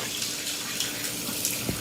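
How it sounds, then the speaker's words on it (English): Kitchen tap water runs steadily over quinoa in a strainer for rinsing, a continuous loud hiss and splash close by with small spattering bumps and no talking. "I'm just running water over just to kind of rinse it off and everything, about 30 seconds or so."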